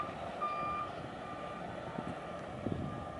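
Semi truck backing toward a river at Lee's Ferry, its reversing alarm beeping steadily at a distance under outdoor wind noise.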